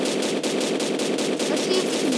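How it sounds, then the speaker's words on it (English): Rapid automatic gunfire in a Roblox shooter game, a steady machine-gun rattle with evenly spaced shots running for the whole stretch, loud and close, with no talk over it. "But I was shooting him though."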